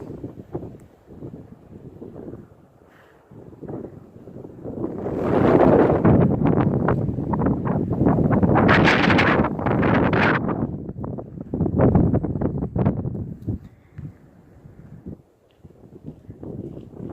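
Strong wind buffeting the microphone on a flat rock area atop Blood Mountain on the Appalachian Trail, roaring in loud, uneven gusts that rise and fall over a steady rush.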